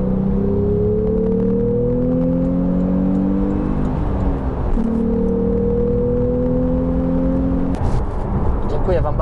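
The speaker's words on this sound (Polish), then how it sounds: "on przyspiesza bez końca, ten samochód" A Porsche 911 Carrera GTS 991.2 with a 450 hp engine and a 7-speed manual gearbox accelerates hard. A loud, close engine note rises steadily through long pulls, with gear changes around the middle and near the end, and no talk.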